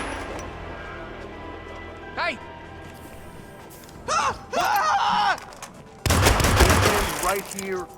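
Gunfire in the Hitman PC video game, scattered shots and a dense burst of rapid fire toward the end, mixed with in-game voices and music.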